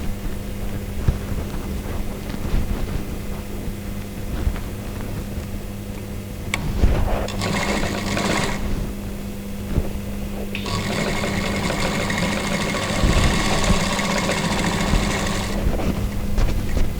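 A sewing machine stitches a dress with a close, rhythmic mechanical whirr, running in two bursts separated by a short pause.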